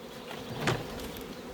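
Honeybees buzzing during installation of a bee package into a hive, a steady close insect drone with one louder swell of a bee passing near mid-clip, no talking.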